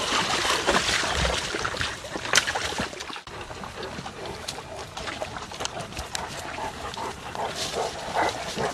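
Dogs at an animal rescue facility make a busy background of scattered barks, yips and movement noise, fairly close and continuous, with water trickling and faint voices mixed in.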